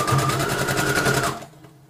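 A sewing machine stitches an embroidered fabric night mask, running with a fast, steady rattling rhythm for over a second before stopping abruptly, loud and close with no talking.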